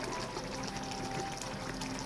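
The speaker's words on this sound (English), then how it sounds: "So our next step is a 15-ounce can of tomato sauce." Canned tomato sauce pours from a 15-ounce can into a pan, a steady liquid glug and trickle lasting a couple of seconds at moderate level.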